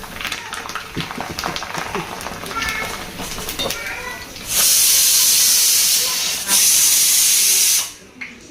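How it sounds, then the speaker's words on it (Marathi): A pressure cooker on the stove lets off steam in two long, loud, forceful hisses that drown out the earlier talk, with a short break between the bursts. "लगेच कुकर शिट्टी वाजवायला चालू करतो"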